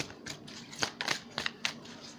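Tarot cards shuffled by hand in a series of crisp riffling bursts and soft slaps, close and fairly quiet, with no talking.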